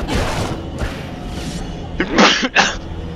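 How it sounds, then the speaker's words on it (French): In the video game Castlevania: Mirror of Fate, a sharp, breathy sneeze bursts out near the end, followed by a second short burst, after a few muffled rustling thumps; close to the listener. "Excusez-moi pour l'éternuement les gars."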